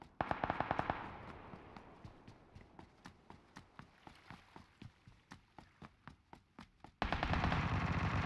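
Rapid bursts of automatic gunfire in PUBG Lite, a fast volley of close shots followed by steady, evenly spaced single shots, ending in a sudden loud wash of noise.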